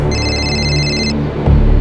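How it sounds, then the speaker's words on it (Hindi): A phone rings with an incoming call, a loud, close electronic ringtone whose bright repeating tones hold for about a second before cutting off into a low thump and hum. "मेरे पापा का मुझे फोन आया।"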